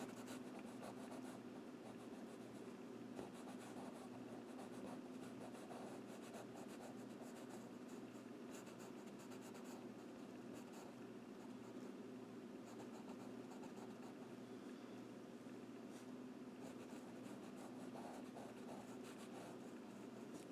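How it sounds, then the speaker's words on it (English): Pastel pencil rubbing and scratching across suede matboard while darkening a kitten drawing, a steady close, quiet rasp running continuously with no talk. "Come in with the pastel pencil and just darken it up a little bit."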